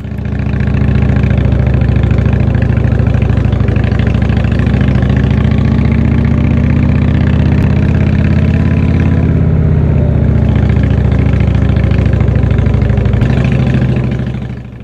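A heavy 400-kilogram motorcycle engine rumbles loudly and steadily up close on a steepening road up Monte Baldo, a deep continuous throb with slight shifts in pitch as it labors.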